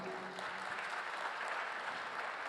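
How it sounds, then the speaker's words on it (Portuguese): Steady applause from a conference audience welcoming guest panelists at a session on arenas and concert venues, a dense even wash of clapping at moderate level with a brief voice near the start. "uma salva de palmas para os nossos convidados"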